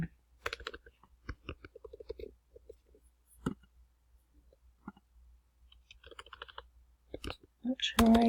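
Keys clatter on a computer keyboard in short bursts of typing, close and crisp, with pauses between runs.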